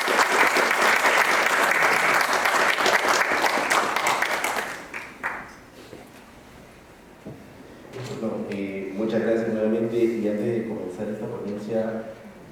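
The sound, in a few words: audience applause at conference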